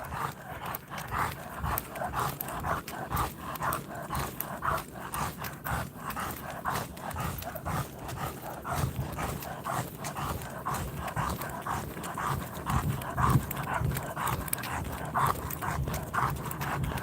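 Two giant pit bulls pant quickly and steadily throughout a dark walk, close by and fairly soft, with footsteps and light scuffing mixed in and no talk.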